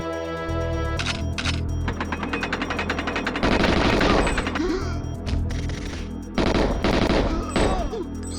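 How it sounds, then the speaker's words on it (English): Submachine gun fire in the shooter GoldenEye 007, rapid loud automatic bursts in several long stretches with brief pauses, mixed with game sounds and mechanical clatter. "Oh, he's got like a submachine gun."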